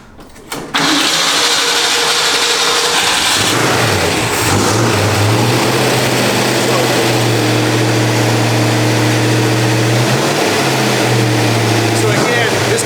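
A classic sports car engine, unrun for 46 or 47 years, cranks and catches, then roars loud and close, revving up and down with a rough, throaty tone that holds steady between blips.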